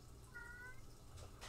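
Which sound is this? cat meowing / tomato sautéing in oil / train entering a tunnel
cat meowing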